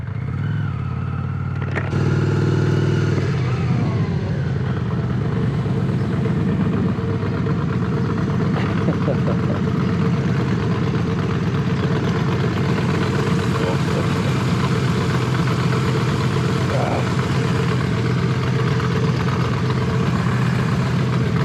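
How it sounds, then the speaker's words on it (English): A 535 motorcycle engine sits close by, giving a brief rev near the start and then settling into a steady, loud, rumbling idle that holds for the rest of the stretch. "this bike is definitely a 535"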